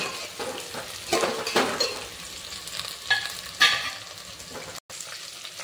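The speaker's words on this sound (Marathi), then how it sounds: "आपण त्याच्यात हिरवी मिरची घालून घेऊ। हे सर्व एकत्र परतून घेऊया थोडे।" Onion and green chillies sautéed together in a pan for chicken biryani, a steady sizzle with a spatula scraping and stirring in several louder bursts, no talking.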